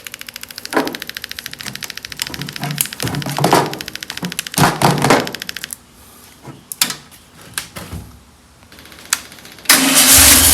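A VW Beetle engine cranking roughly in loud, rapid bursts, coughing and nearly catching before dropping off, then cranking again, close by.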